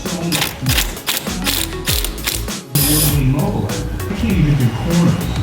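A ratchet wrench clicks rapidly and loudly up close, loosening two 17mm bolts on a Honda CRX dashboard in bursts with brief pauses between.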